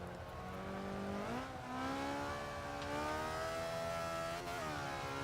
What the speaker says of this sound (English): Using the engine to help slow it down a little bit.